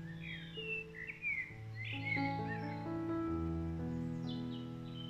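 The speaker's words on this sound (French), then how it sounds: "Vous avez entendu les oiseaux qui chantent." Melodic whistled bird song rises and falls over a soft sustained tonal backdrop, the calls clear and continuous for several seconds.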